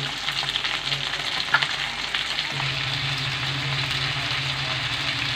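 Tilapia fish frying in oil in a pan, a steady close sizzle and crackle with a low hum underneath and a brief clatter partway through.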